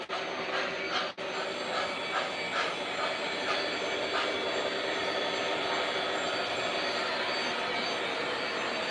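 Lionel or MTH model decapod steam locomotive rolling along track past a switch, a steady continuous rumble with clicking wheel noise and faint metallic squeal, close by and alone.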